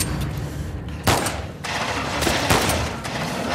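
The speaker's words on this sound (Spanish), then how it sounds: "Ah, pues yo disparo a tope, ¿eh? Disparo a tope ahí." Rapid automatic gunfire in the video game The Last of Us Part II, loud sustained bursts of crackling shots with a brief gap between volleys.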